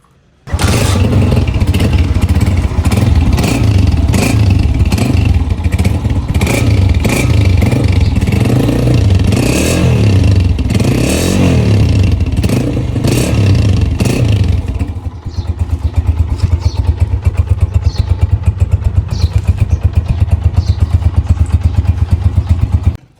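A 2025-model 125 motorcycle fitted with a chrome whistler silencer revs hard, loud and close, with repeated throttle blips and clattering pulses, then settles into a steady, sharper idle-like drone for the last stretch.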